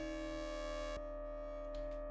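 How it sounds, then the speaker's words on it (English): An Endorphin.es Furthrrrr Generator synth sends a pulse wave through its ring modulator, giving a bright, buzzy, harmonic-rich tone that cuts to a thinner, hollow ring about halfway through, with brief flickers near the end. "Now I'm applying a pulse wave to the ring modulator"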